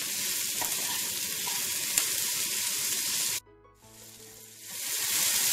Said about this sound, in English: Mix it and just cook for another 3 to 4 minutes until the tomatoes are soft.